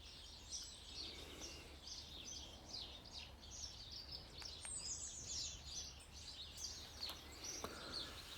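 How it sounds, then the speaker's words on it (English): Songbirds call and chirp near a countryside cottage, with faint, scattered high-pitched phrases over a steady low outdoor hum, fairly distant and soft with no talking. "And this is the bird song."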